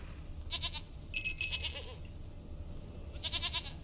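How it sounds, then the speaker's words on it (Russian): Goat bleats from The Witcher 3 video game, three quavering cries in under four seconds, close and fairly clear over a low ambient game background. "Коза, козочка."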